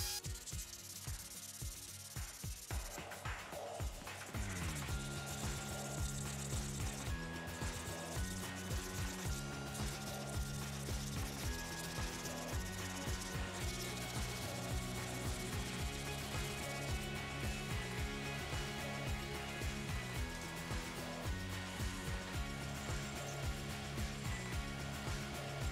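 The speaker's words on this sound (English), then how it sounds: "I switched over to an orbital sander and I went through four different grits of sandpaper" Orbital sander working over an old axe head on fine sandpaper, a dense, continuous rubbing whir that steadies after a few seconds and keeps going evenly, heard up close without talk.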